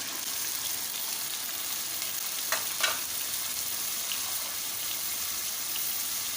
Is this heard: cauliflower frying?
yes